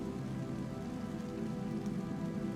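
Steady rain falls on a surface in Borås, Sweden, a dense continuous patter at a constant low level with no other sounds.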